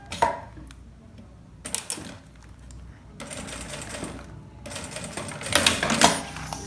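A sewing machine stitches a fabric shampoo pouch in bursts of rapid, close mechanical whirring, pausing briefly between runs and growing louder near the end.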